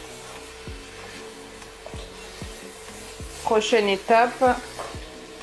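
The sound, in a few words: stirring spinach and turkey in a pan over raised heat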